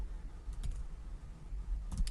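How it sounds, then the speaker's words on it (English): Typing on a computer keyboard while writing an HTML input tag, a short burst of light clicking keystrokes in two small clusters, close and fairly quiet, no talking. "I'm going to start typing an input tag"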